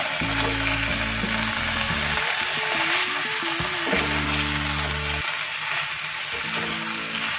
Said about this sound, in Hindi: ये मसालों को अच्छे से ऐसे भून लेंगे